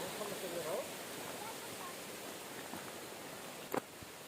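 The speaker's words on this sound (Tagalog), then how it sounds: "Naririnig nyo yung tubig na rumaragasa dyan sa likod ko" Mountain water rushing downhill toward Eibsee lake, a steady broadband wash heard from fairly close behind, with a brief sharper knock near the end.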